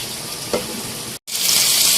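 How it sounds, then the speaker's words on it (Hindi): Chopped onions sizzle in hot oil in a pan for a commercial-style chana daal, a steady close frying hiss with a brief stir around the middle, a momentary cutoff, then a louder, brighter sizzle. "प्याज को हमें यहाँ इतना फ्राई करना है कि इसका कच्चापन ख़त्म हो जाए"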